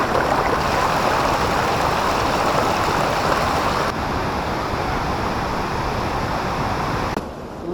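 Stream water flowing down toward the Hathni Mata waterfall, a steady, dense rushing wash that stays loud and even throughout with no talking.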